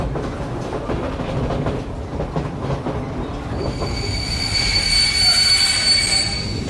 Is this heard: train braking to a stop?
yes